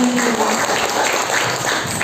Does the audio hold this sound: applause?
yes